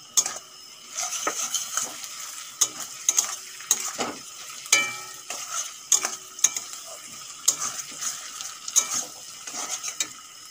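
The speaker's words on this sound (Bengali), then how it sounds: "আদা আর কাঁচা লঙ্কা ভালো করে ভাজা হয়ে গেছে" Crushed ginger and green chillies fry in a pan after onions, sizzling softly while a spatula stirs and scrapes in frequent sharp metallic clinks.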